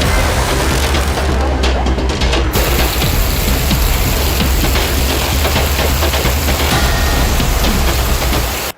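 Heavy monsoon rain pours down in Kerala, a loud, dense and unbroken roar of falling water that holds steady throughout and then cuts off abruptly.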